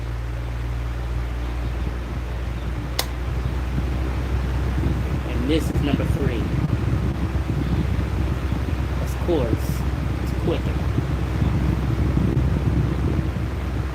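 Electric fans that have just been cleaned run with a steady, broad whooshing hum and low drone that goes on the whole time, while a person talks over it nearby.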